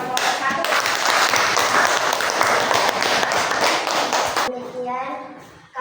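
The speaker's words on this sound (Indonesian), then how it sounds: "Kasih aplaus buat kelompok 1." A classroom claps for a student group in a dense, steady round of applause lasting about four seconds. It stops abruptly, and voices talking follow.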